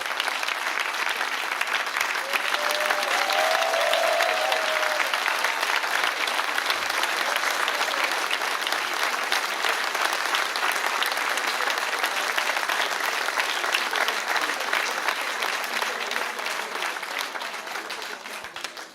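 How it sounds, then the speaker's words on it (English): Sustained audience applause at a gala honoring guests, a dense, steady clapping crowd that holds loud for the whole stretch and begins to thin only at the very end. "Would you please rise so we can give you a warm applause?"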